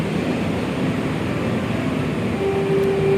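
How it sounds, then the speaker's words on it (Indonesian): The Argo Semeru passenger train pulls out of Surabaya Gubeng station with a loud, continuous rumble, and a thin steady tone rises over it near the end. "kereta api Argo Semeru diberangkatkan dari stasiun Surabaya Gubeng"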